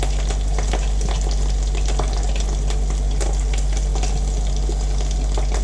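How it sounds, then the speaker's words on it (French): Onion paste and tomatoes cook in a pan for an Indian chicken kofta curry, giving a loud, continuous sizzle and frying hiss with scattered scraping clicks of stirring, close up and without speech. "je vais juste le mélanger et rapidement mettre les tomates dedans"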